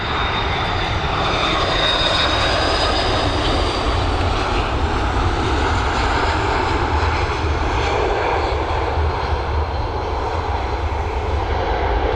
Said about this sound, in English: We've got this A330 coming in from San Francisco